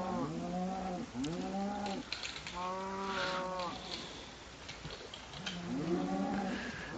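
Cows in the Minecraft video game moo several times in a row, each call a drawn-out, wavering low-pitched low, loud and close, with short gaps between calls and no talk.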